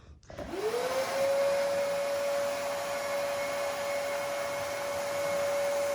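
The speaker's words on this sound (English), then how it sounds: "here we are with a new Dustless to try out, and we're going to be vacuuming up this space" Dustless vacuum cleaner starting up and settling into a steady high whine with airflow roar, running loud and close while cleaning a gutted kitchen floor.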